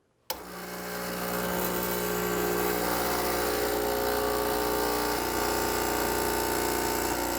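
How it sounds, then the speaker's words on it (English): A Lelit Anna 2 espresso machine pump kicks on with a click and settles into a steady loud vibrating hum that runs unbroken while espresso brews, no voices. "I'm gonna activate my pump"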